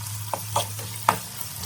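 Chilli powder and green chillies tempering in hot oil in a pan for Andhra-style palak pappu, with a steady low sizzle and a few short clinks and stirs; no talking.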